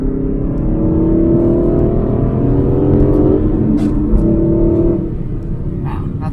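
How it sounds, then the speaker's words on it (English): A 2015 Aston Martin Vantage GT's naturally aspirated engine pulls hard after a downshift, a loud, steady rising drone with induction noise heard from inside the car, pitch climbing, briefly dropping around a shift, then easing off near the end. "This car makes awesome induction noises from the front"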